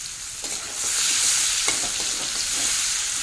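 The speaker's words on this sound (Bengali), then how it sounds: "পেঁয়াজটা ভালোভাবে ভেজে নেব।" Finely chopped onions frying in hot oil with cardamom, cloves and dried red chilli, stirred in a pan on high flame for a spicy prawn curry; a steady close sizzle with soft scraping stir strokes, no talk.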